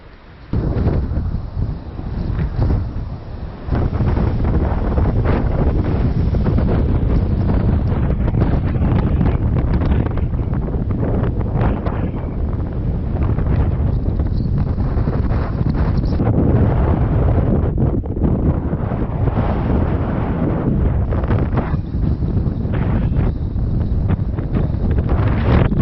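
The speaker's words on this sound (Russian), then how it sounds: "Такой ветер, который как будто высовываешься из машины, который несется километров 120" Strong storm wind blasts into the microphone outdoors during a storm warning, a loud, continuous, buffeting roar after a few quieter seconds, with gusts surging and easing throughout.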